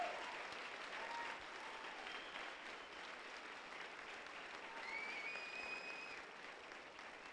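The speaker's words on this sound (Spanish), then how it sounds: "Y dale un fuerte aplauso al Señor" A church congregation gives steady, sustained applause at the end of a prayer, a dense continuous wash of clapping from many hands, moderately distant, with a few faint shouts rising over it.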